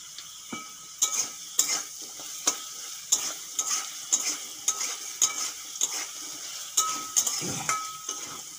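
Potatoes with salt and turmeric fry in hot oil in a kadai, a steady sizzle broken by a regular rhythm of spatula scrapes and clinks against the pan.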